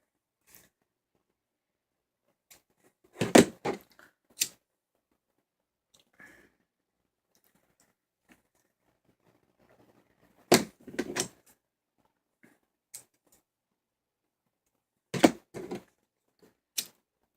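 Ribbon spikes for a round bow are snipped and heat sealed one at a time, giving three separate clusters of sharp clicks and brief crackling with quiet pauses between them.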